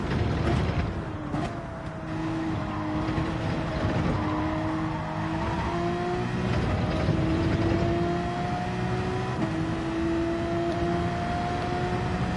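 Racing car engines in Gran Turismo 7 on the Dragon Trail circuit, including a Porsche, roar and rev steadily as they climb through the gears. The engines drone continuously and loudly, with rising pitch sweeps as they accelerate, and no talk.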